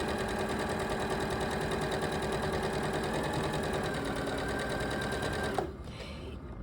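A sewing machine stitches a rolled hem using a medium rolled hemming foot of about 4 mm on stretchy fabric. It makes a steady, fast mechanical whir that runs evenly, then stops abruptly near the end.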